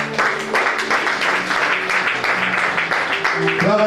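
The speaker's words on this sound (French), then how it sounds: "Acclame le Seigneur." A church congregation applauds in a loud, sustained burst of clapping, with voices mixed in throughout.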